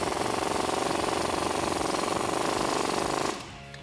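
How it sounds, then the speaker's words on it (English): A power tool, likely an impact wrench, drives a factory bolt with an 18mm socket on a Jeep Wrangler JL during a suspension lift install. Its steady buzzing hammer runs loud and close for about three seconds, then stops abruptly. "Then we can tighten that up with the 18mm socket and wrench."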